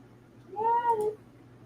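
A single cat meows once, a clear, moderately loud tonal cry lasting about half a second over a faint low hum, with no one speaking.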